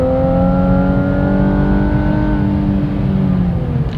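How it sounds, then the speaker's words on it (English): A 2017 Infiniti Q60 accelerates on the freeway from about 60 to 75 mph, heard from inside as a steady, loud engine drone with a rising tone over road and wind rumble, lasting throughout. "We're going to slow down to about 60 miles an hour and then speed up to about 75"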